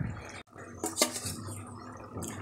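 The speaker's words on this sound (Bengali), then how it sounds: "বলক চলে আসলেই এভাবে ডিম ছেড়ে দেব।" Eggs slip one by one into a simmering egg curry, giving soft close plops and a light clink of utensil against pot over a quiet bubbling background.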